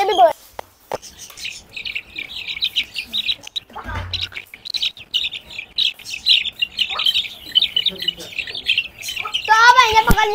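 Several small chicks let out shrill, rapid squawks and chirps as they are grabbed by hand, the frantic peeping loud and close throughout with a brief burst of handling noise midway.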